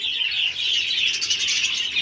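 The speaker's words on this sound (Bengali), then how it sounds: "এদিকে পাখিগুলো দেখো" Many kinds of birds chirp and tweet in a dense, steady chorus at an aviary area in Mal Bazar, a continuous bright twittering with no voices over it.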